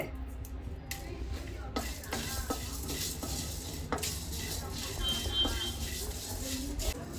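Coriander seeds dry-roast in a pan over a medium flame, a near, steady stream of scraping and rattling stirs with faint sizzle and some talk in the background.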